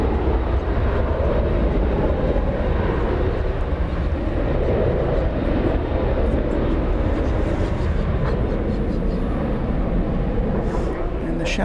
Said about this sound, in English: There's American 2387 from San Francisco, Airbus A321.